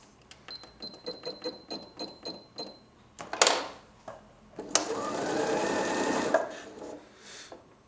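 Janome XL601 sewing machine running a straight stitch, a series of soft rhythmic needle thumps at close range, followed by a louder mechanical burst and a sustained whirring.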